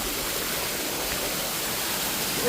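At a water park, a stream of water cascades from above, producing a continuous loud splashing roar, even and unbroken throughout.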